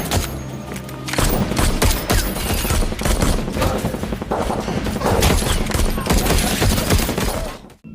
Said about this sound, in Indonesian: terjadi baku tembak